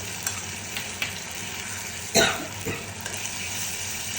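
Steady sizzling of fish frying in a hot pan, with a few soft clicks and a louder scrape partway through; no voices.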